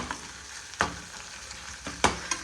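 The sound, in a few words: onion and tomato sautéing in pan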